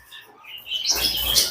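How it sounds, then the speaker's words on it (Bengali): Gouldian finches chirping in quick high tweets, close by, growing busier and louder toward the end. "এইগুলো কিন্তু সব আমার রানিং পাখি"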